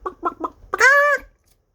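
A hen gives a few quick clucks followed by a longer drawn-out squawk, close and clear.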